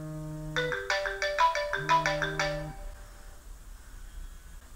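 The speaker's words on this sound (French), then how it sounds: "quand cet enfoiré de téléphone sonne" A phone ringtone alarm plays a bright, repeating electronic melody of stepped tones, loud and close, then stops and leaves low room noise.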